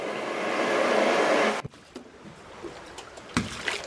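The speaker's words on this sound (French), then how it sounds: "du bruit des vagues contre un bateau." A loud wash of water cuts off abruptly, leaving quiet, intermittent lapping and knocking of small waves against a boat hull.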